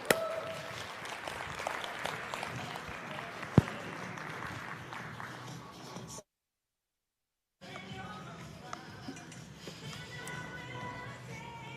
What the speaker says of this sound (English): Please put your hands together for Miss Sheila Anderson.